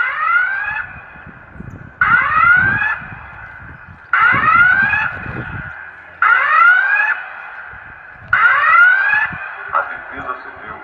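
Civil defence warning siren sounding a rising wail five times at roughly two-second intervals, each rise lasting about a second, with a person talking underneath between the blasts.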